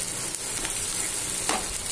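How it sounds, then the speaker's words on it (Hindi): Onions sizzling steadily in a hot pan as the base for a pumpkin curry, a close, continuous frying hiss with a few soft stirring scrapes and no voices. "देखिए हमारे प्याज जो है हल्के से पिंक हो गए हैं, बस इसको थोड़ा सा और कुक करेंगे।"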